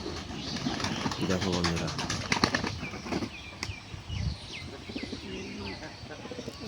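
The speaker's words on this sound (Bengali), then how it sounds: "আমার পায়রাগুলো রোদে চমকাচ্ছে।" Pigeons in a loft coo and flap their wings close by in a busy mix of soft calls and wingbeat bursts, while someone speaks over them.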